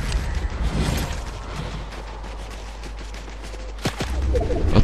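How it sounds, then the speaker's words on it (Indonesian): Gunfire in Fortnite, bursts of close shots with a loud crack near the end and a dense rattling fusillade at the start, heard alone with no talk. "Ada yang nembak"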